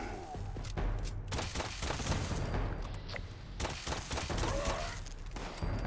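In Fallout 76, rapid bursts of gunfire hit super mutants as repeated sharp shots in quick clusters, with mid-level game ambience and a bit of voice underneath.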